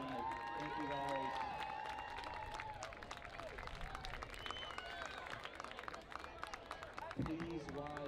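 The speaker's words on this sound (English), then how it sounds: "If we can give one round of applause for all the teachers that attended faculty night." A stadium crowd at a varsity high school football game applauds the teachers, a faint, distant wash of clapping and cheering beneath an echoing announcer's voice over the public-address system.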